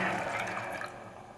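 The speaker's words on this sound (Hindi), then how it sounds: "अब इसमें मैं ये बचा हुआ दाल का पानी है वो डाल दूँगी।" Leftover dal water poured into a cooking pot, a soft, brief liquid splash and trickle that tapers off.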